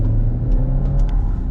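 A RAM Rampage pickup's turbocharged engine revs briefly under a light throttle press, a close, steady mid-pitched rumble with small turbo hisses and puffs near the end.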